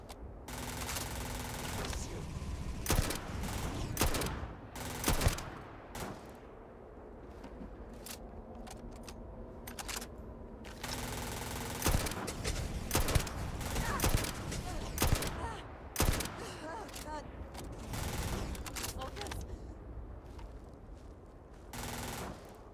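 Gunfire from the video game Starfield comes in rapid bursts and single shots, loud and repeated across the stretch, with a voice talking between the volleys.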